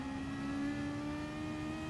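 Toyota FT1 race car engine in a racing video game, a steady mid-pitched whine holding level for a couple of seconds, faint and alone without speech.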